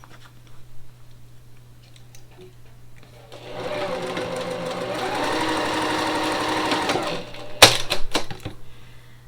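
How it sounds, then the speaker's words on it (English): A sewing machine stitches fabric in a diagonal seam, its rapid even needle clatter starting after a quiet moment, running steadily for about four seconds, then stopping with a few sharp clicks. "And then I am going to sew from the middle diagonally down to here."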